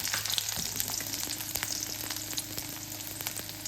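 Small shallots frying in hot oil with popped mustard seeds for a Tamil kulambu, a steady close sizzle with crackling pops and occasional stirring, no voices.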